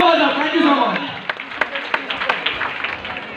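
Applause from a seated audience at a business motivational event, a dense wash of clapping with sharp individual claps standing out, while someone speaks over it near the start.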